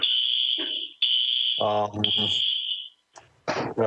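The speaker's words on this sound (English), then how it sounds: "we have a fire alarm going off in this building" A building fire alarm blares in long, loud, steady electronic tones that stop and restart, while a person talks over and between the bursts.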